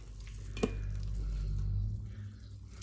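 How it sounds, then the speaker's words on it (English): Onion and garlic sautéing in an Instant Pot, a soft steady sizzle with a single brief utensil clack early on. "Onion and garlic sauteing."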